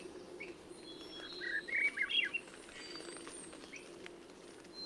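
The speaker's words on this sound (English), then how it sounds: "Hear that chip? That's also from the Swainson's thrush chip." A Swainson's thrush sings a short run of rising, fluty phrases, loud and fairly close, with a few faint chip notes scattered over a low, steady outdoor hum.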